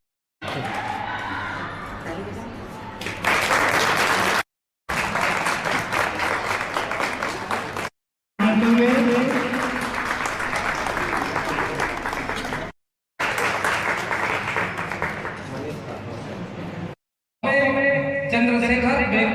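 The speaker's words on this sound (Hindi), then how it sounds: "जोरदार ताली बजाइए।" An audience at a school National Science Day event, with children's science models on show, claps in several bursts separated by brief gaps, loud and close, with some talk and music mixed in.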